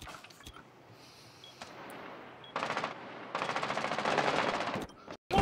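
Close-range shotgun fire in Rainbow Six Siege during a ranked match, heard as a burst of loud gunfire after a quieter stretch, followed by a rapid string of shots with no talking.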